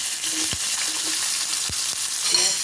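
Chopped onions sizzle and fry in hot oil in a pan with whole bay leaves, a dried chilli and whole garam masala, a steady bright hiss broken by a few low knocks of stirring.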